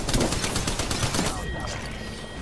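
Gunfire in Apex Legends: a rapid burst of automatic shots, loud and crackling, that stops abruptly partway through, leaving quieter game ambience.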